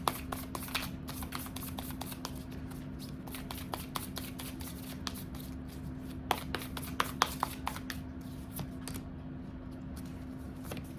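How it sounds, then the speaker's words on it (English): Oracle cards from an Animal Spirit deck being handled and drawn, a rapid run of soft flicks and riffling taps up close over a steady low hum, with no talking. "I'm going to go ahead and pull 2 of these Animal Spirit Oracle cards."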